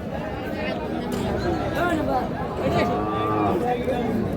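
A cow with her calf moos in drawn-out, wavering bellows at a busy village cattle market, heard close over constant crowd chatter and people talking.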